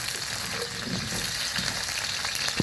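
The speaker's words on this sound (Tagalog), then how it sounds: "naprito na mga mare ating carrot" Carrots frying in a pan of oil for beef kaldereta in a home kitchen, a steady close sizzle with faint stirring clinks and one sharp tap near the end.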